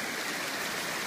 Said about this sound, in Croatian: karakterističan zvuk vode, pa ćemo morati malo da približimo mikrofon da bi se čuli